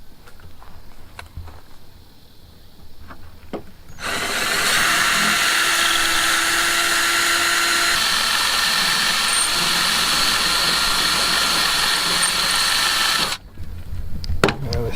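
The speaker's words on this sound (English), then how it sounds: "you use a 5/32 drill to drill out the rivets" A 5/32 drill bores out rivets on an RV baggage door latch assembly, a loud steady whining drone lasting about nine seconds, near and alone, with quieter handling sounds before and after.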